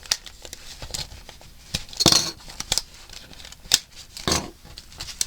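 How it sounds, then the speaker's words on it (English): Scissors trim loose string on a handmade junk journal, giving several sharp, close snips at irregular intervals with soft rustling and handling noises in between. "And then I'm going to trim some of this off"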